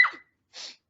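A sneeze from Rembrandt in an old radio drama: a sharp, close burst with a quick intake and release, followed after a short silent pause by a softer breathy snort.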